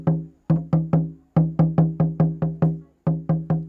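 Tambor mayor drum of San Benito del Jabón beaten in paired strokes, booming hits falling in groups with short gaps between them, loud and close with no other sound.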